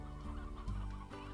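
Chickens cluck in a coop in the video game Slime Rancher, a short run of nearby clucks and fowl calls with a brief louder squawk midway, sounding alone with no talk.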